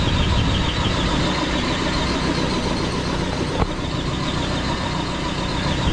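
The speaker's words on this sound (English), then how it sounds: "of course the pressure washer is spinning the brush." A pressure washer drives a spinning brush cleaning solar panels in San Diego, California, producing a loud, steady broadband roar and hiss that runs unbroken throughout, close to the listener with no speech.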